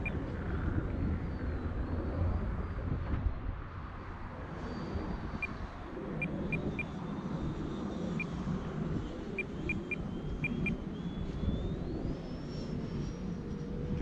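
An E-Flite Viper 70mm EDF RC jet flies overhead, its ducted-fan whine holding steady and then shifting in pitch as it passes. Wind and outdoor rumble run beneath it throughout.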